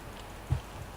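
Rain falling in the Minecraft video game, a steady soft hiss of downpour over one second with a brief low thud partway through, no voices.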